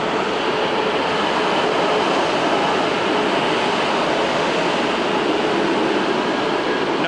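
Regional train at Berlin Hauptbahnhof producing a continuous loud rushing rumble and hiss, steady and close throughout with no pauses.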